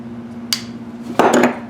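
Vice grips clamped on a part of a 1999 Miata intake being wiggled loose: a short metallic clink, then a louder cluster of rattling clanks close by, with no talking.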